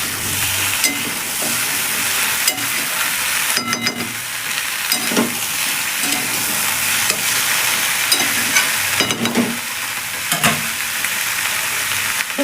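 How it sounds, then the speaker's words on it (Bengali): Vegetables and onions being stirred in a pan, steady frying sizzle with repeated scraping strokes of a spoon at irregular intervals, close and fairly loud, no voices. "এবার একটু নেড়ে চেড়ে দেবো।"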